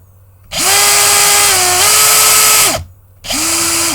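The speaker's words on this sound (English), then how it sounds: "this should be attached to the end of the drill" Electric drill spinning up loud and close, its whine holding steady then dipping slightly in pitch before cutting off, followed by a second short burst after a brief gap, with no talk.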